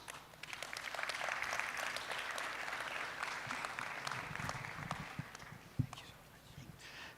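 An audience at a national career conference and exhibition claps together in sustained applause at moderate distance, a dense patter that swells briefly and then thins out, with a sharp thump near the end.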